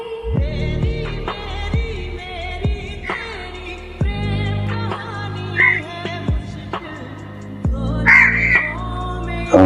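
Crows caw outside in scattered, intermittent calls over a low background rumble, several of them sharper and closer near the end.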